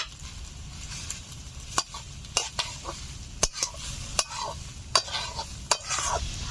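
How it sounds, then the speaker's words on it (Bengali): Fried eggs being stirred into pasta in a pan, with sharp spatula scrapes and clacks at irregular intervals over a low, steady sizzle, close and fairly quiet. "আরো 2 মিনিট মতো নাড়াচাড়া করে নিয়েছি"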